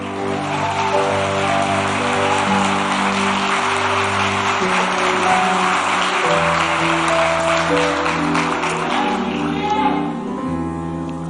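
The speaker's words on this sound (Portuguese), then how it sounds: "Dê mais um aplauso ao Senhor Jesus" A church congregation applauds Jesus at a Lord's Supper service, sustained clapping blended with loud worship music from keyboard and band, continuous and fairly loud throughout.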